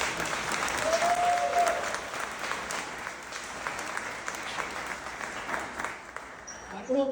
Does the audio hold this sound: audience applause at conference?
yes